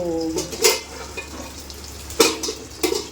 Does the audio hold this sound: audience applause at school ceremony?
no